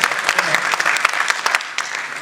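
An audience at a Hindi poetry recital claps loudly and continuously, a dense close wash of many hands with no pauses, lasting just over two seconds.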